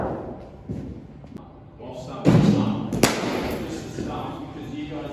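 A cricket bat strikes the ball with a loud, sharp thud near 2.3 seconds during a group power hitting session, with a second crack just after 3 seconds; voices talk faintly in the background.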